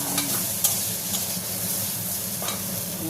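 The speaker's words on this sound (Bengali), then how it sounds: "দেখো বন্ধুরা, নুন দিয়ে দিয়েছি, পনিরও দিয়ে দিয়েছি। ভাজা ভাজা হয়ে গেছে।" Salted paneer cubes fry in a pan, making a continuous close sizzle broken by a few quick stirring scrapes of a spatula.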